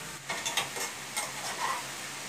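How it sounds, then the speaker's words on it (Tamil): Mixed vegetables saute in oil for a Pongal mixed kuzhambu, a soft sizzle under a few light scraping stirs of a spoon in the pan, heard close and fairly quiet. "இது ரொம்ப தீவிராத அளவுக்கு எல்லா காயையும் எண்ணெய் போட்டு வதங்கி விட்டுக்கிறோம்."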